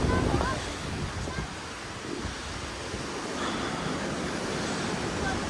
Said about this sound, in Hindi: बहुत हवा चल रही है यहाँ पे